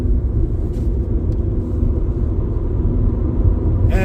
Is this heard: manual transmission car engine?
yes